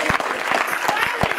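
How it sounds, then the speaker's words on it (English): Applause from a congregation at a live-streamed evangelistic church service in Italy, a short burst of sharp, uneven claps with brief pauses, fairly close, with a voice faintly mixed in. "You are not clapping enough"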